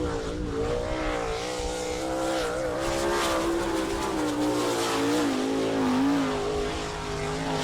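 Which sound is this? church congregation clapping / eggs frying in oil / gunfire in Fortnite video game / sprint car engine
sprint car engine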